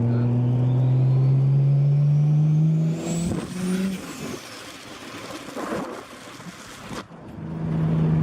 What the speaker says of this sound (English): Love turbo noises, eh? They always sound so sick.